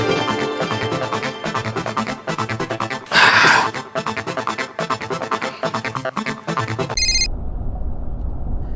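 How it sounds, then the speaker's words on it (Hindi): Telephone ringing on an outgoing call, a loud repeating musical ringback tone pulsing in regular bursts, then abruptly cut off as the line connects. "बॉस को फोन करता हूं, पहले कंफर्म करता हूं कि वो जा रहे हैं ना"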